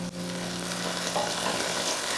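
Coconut oil sizzles steadily in a hot pan, a dense, even frying hiss that fills the whole moment close up without pause or talk.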